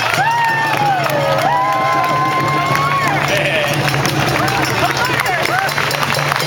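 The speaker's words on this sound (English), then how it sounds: "let's do a round of applause for Eugene Kung, the Honorable Eugene Kung" An outdoor protest crowd against the Kinder Morgan tar sands pipeline cheers and claps in a steady, continuous roar, with raised voices and whistle-like calls rising above the crowd.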